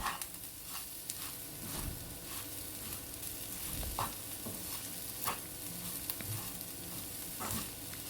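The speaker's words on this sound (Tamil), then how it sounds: "சால்ட் சேர்த்த பிறகு நல்லா திரும்பவும் மிக்ஸ் பண்ணி விட்டுக்கலாம்." Chettinad potato fry being stirred with salt in a pan, with a steady low sizzle beneath irregular scraping and tossing strokes of the spoon, moderately close and with no voices.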